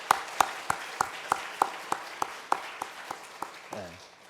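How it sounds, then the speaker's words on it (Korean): Applause at a church leadership gathering, sharp evenly spaced claps from what sounds like a small group, fading toward the end with a brief voice. "하나님께 영광의 박수 올려드리겠습니다"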